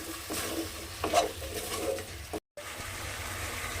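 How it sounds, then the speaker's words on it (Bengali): Spice masala sautéed with beaten sour yogurt for egg curry, stirred in a pan with a steady soft scraping and low sizzle, cut by a brief silent gap. "টক দইটা দিয়ে খুব ভালোভাবে কষিয়ে নিয়েছি"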